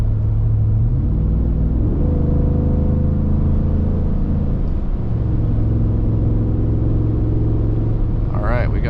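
A Ford F-150 with a 5.0 V8 drives with a loud, deep exhaust rumble, the engine note rising and shifting through gears, with some brief crackle near the end.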